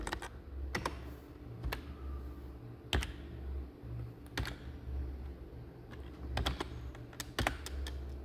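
Someone types the MS-DOS format command on a Brazilian-layout computer keyboard during an MS-DOS and Windows 1.0 installation, with sharp scattered key clicks in short bursts and pauses, close and clear, with no talking.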